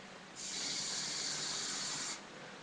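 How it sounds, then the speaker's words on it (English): Hairspray hisses from an aerosol can onto curled hair in one steady spray lasting nearly two seconds, close and moderately loud, with no talking. "you're going to take your hairspray, and what you're going to want to do is you're just going to want to hairspray as much as you can"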